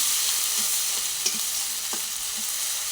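Ground chicken and spice paste sautéing in a pan, a steady bright sizzle with a few soft scraping stirs, close and even throughout, with no voices.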